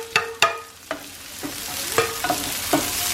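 Onion hits hot oil already holding finely chopped garlic, and a soft sizzle builds underneath several sharp metallic spoon knocks and stirring clatters against the pan.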